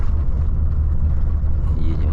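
A Volvo FH 540 truck rolls along the Lena highway toward Yakutsk on a dusty road, heard as a continuous, loud, low engine and road rumble from inside the cab.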